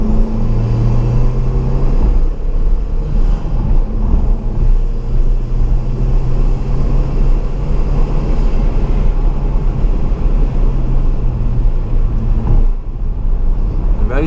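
An Audi TT Mk1 Quattro Sport driving through a corner in third gear, steady loud engine drone with road rumble from inside the car, a brief shift or lift near the end.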